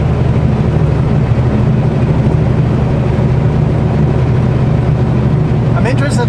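A Kenworth truck engine running steadily from inside the cab, a low continuous droning rumble that stays even and fairly loud throughout.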